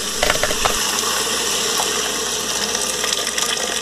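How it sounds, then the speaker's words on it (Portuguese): Boiling water poured into a pan used for frying bacon, a loud continuous gushing splash with bubbling and clatter, steady throughout without speech. "E vou vir com a água fervendo."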